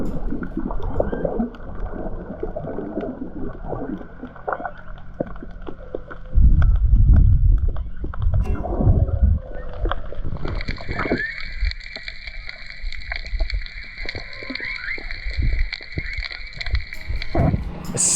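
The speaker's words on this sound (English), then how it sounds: "dip your head in the water, you can hear the whale songs" Humpback whale song recorded underwater off Maui, with long wavering tonal calls rising over muffled water noise and bubbling, the moaning notes growing stronger and more sustained in the second half.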